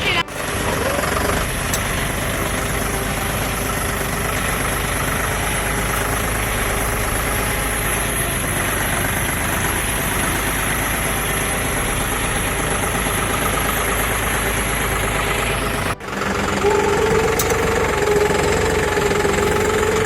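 A John Deere 5310 D 4WD tractor engine runs at idle with a steady, rough diesel chug close by and a faint high whine above it. It cuts out briefly near the end and then resumes.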